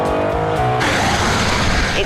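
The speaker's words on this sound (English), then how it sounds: "This car loves revs." A high-revving car engine, run hard through the gears and held at the top end, roars loud and close, rising and then staying dense and strained throughout.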